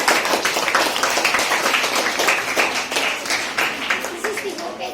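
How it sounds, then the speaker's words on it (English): An audience at a school event applauds, many hands clapping in a steady, dense patter from start to finish, fairly loud and close. "Express your happiness by clapping your hands."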